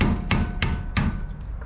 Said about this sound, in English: So as soon as it starts to break loose, I stop. I don't want to keep hitting it